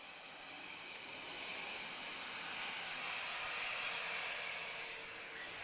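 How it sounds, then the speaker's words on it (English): Aircraft pushing back at Lisbon Airport make a faint, steady, distant engine roar that swells slightly and holds without a break. "there's a lot of aircraft pushing back at the moment"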